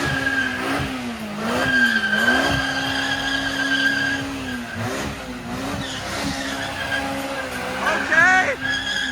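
At a nighttime car meet, tires squeal in a long wavering screech during a burnout, with the engine roaring and pitching up and down beneath it; people talk and shout nearby throughout.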